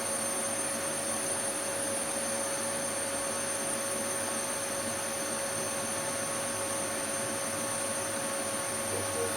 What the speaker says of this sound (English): I'm going to turn on my vacuum cleaner.